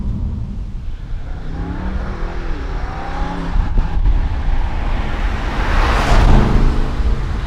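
Inside a BMW M550i with a 530 hp V8 and xDrive cruising at about 50 mph, a low, steady engine and road drone carries constant wind noise that swells slightly toward the end.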